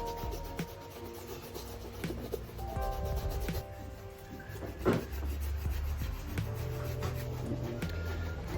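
Cream is massaged by hand into leather shoe uppers during a sole restoration, producing soft, close rubbing and squeaking strokes in an uneven rhythm, faint and continuous.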